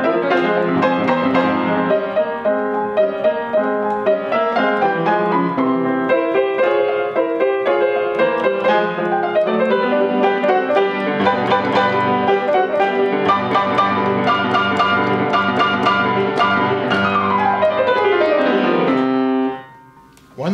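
Fast Beethoven prestissimo movement on piano at a single-beat metronome tempo: dense, rapid runs and repeated chords played loud and continuous, with no talking, ending abruptly near the close.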